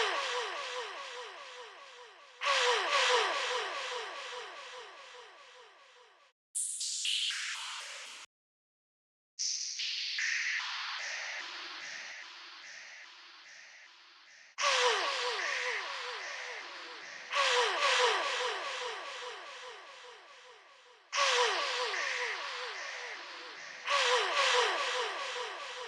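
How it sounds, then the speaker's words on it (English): Slow, mellow vaporwave remix of a song, pitched down and washed in reverb, with a muffled tape-cassette filter tone, the phrases swelling and dropping out briefly partway through. "slowing it down, pitch shifting, reverb, adding a tape cassette filter to give it that slow, mellow vaporwave vibe"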